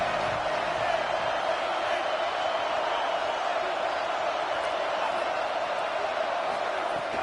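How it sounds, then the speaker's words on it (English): A college football stadium crowd roars in a broad, sustained wash of cheering at a steady loud level, with a commentator's voice sitting over the noise. "This crowd ready to make its presence known."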